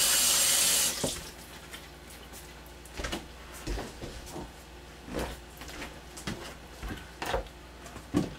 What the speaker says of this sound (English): And then you're just going to take, rinse my hands.